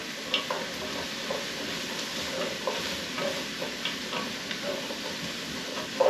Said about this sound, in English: And we're going to just kind of saute all this together